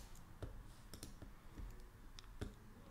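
Sharp, quiet mouse clicks come from a computer during a web design session, about five single clicks spaced irregularly over a faint background hiss.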